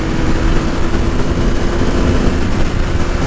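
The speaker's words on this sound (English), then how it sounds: "Oh, this bike sounds good on deceleration." A 2018 Triumph Speed Triple 1050 S motorcycle engine decelerating on the road, a steady, dense, loud low rumble with broadband roar and wind that holds evenly throughout without clear gear changes.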